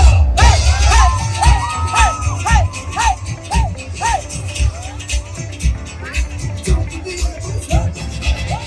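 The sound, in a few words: crowd cheering with hands up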